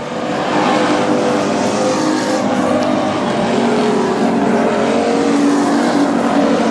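Street stock race cars roar around the North Central Speedway dirt track three wide, a dense, continuous engine drone at high level without breaks.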